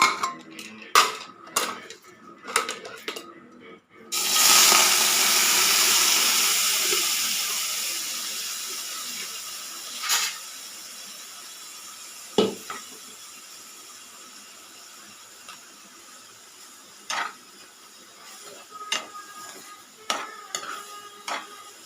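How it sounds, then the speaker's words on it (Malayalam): Boiled clam meat hits hot coconut oil in a pan with a loud burst of sizzle that slowly fades to a steady hiss, broken by metal spoon scrapes and clinks against the pan; no talking. "അതിനകത്തേക്ക് ഈ വേവിച്ച് വെച്ചിരിക്കുന്ന കക്കയിറച്ചി ഇട്ട് നല്ലോണം ഫ്രൈ ചെയ്യാം."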